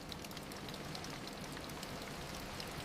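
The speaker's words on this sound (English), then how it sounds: "Listen to the rain." Steady rain falls with a dense, even patter of drops and no pauses, soft and constant throughout with no voices.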